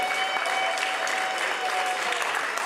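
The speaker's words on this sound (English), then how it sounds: "Yes, round of applause for Crystal." Audience applause at an arts awards ceremony, a large crowd's dense, even clapping forming a continuous wash, moderately loud and sustained throughout with no talking.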